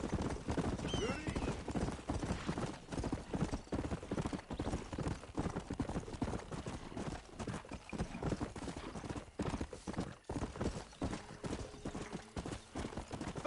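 A horse gallops hard in Red Dead Redemption, its hoofbeats drumming in a fast, unbroken rhythm, close and fairly loud, with a snort or whinny early on.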